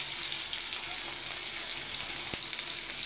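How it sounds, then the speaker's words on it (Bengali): Cumin seeds sizzle in hot oil with a steady, close, continuous crackling hiss and one brief tap partway through. "দেখো আমি তেলে জিরে দিয়ে দিয়েছি"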